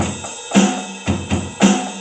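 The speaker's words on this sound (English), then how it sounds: "you're going to go and ride on your ride cymbal instead of the hi-hat" A drum kit plays a groove with the ride cymbal carrying a steady shimmering wash, punctuated by regular snare and kick hits, close and fairly loud.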